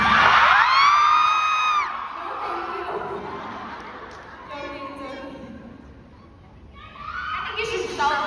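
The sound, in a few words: audience fans screaming and cheering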